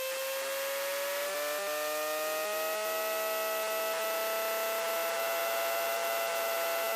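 A SportCruiser light aircraft's engine, heard from inside the cabin, rises to a 4,000 RPM run-up before takeoff: a steady droning whine with harmonic tones climbing gently in pitch and then holding level, continuous and muffled under a headset-like hiss.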